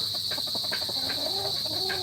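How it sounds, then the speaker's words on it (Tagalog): A pet chicken clucks a few times close by, its calls steady over a constant background hum with no talking. "Ito may manok pa ako dito mga kuya"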